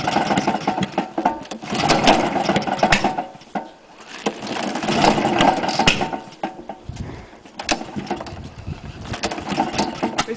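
A Honda lawn mower engine running on white spirit chugs with a rough, uneven rattle that surges and dips over about ten seconds, close by.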